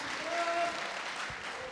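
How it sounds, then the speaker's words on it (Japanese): Audience applause at a boat racing winner's award ceremony in Omura, a steady wash of clapping from a crowd lasting the whole moment, with faint tones and murmurs underneath. "ぜひ皆様温かい拍手でお送りください。"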